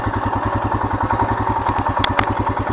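A motorcycle rides over a dirt track near a dried-up lake, its engine close and loud with a fast, even, thumping pulse. Faint clattering and a couple of sharp knocks sound over it.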